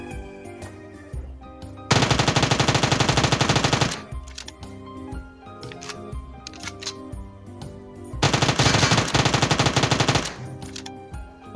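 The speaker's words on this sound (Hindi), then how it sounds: "उसने भी मुझे गोलियां मारी हैं।" Automatic gunfire in the Metro Royale mode of a shooter video game: two long, loud, continuous bursts of rapid shots, with quieter in-game sounds and scattered single reports between them.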